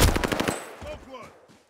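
A Thompson submachine gun in a video game fires a rapid, loud burst of shots for about half a second, then falls away into faint echoes while a voice speaks briefly underneath.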